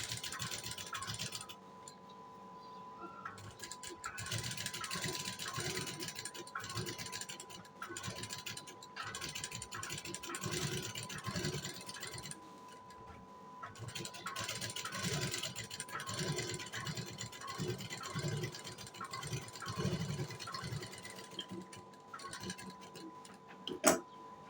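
A sewing machine stitches a blouse, running in a steady rapid mechanical rattle with a constant hum, close and moderately quiet, with brief pauses between runs.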